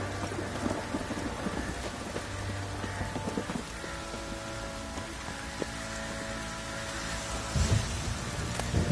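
Steady rain hisses in a PS4 video game while low thunder rumbles and rolls underneath, and a louder thunder burst swells near the end.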